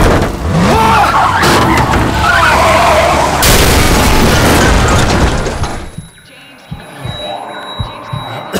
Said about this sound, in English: Truck's wrecked.